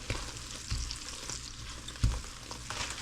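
Marshmallows melt in a pot over low heat for a cornflake wreath, giving a soft steady sizzle broken by a few dull knocks and stirring scrapes, close by and fairly quiet.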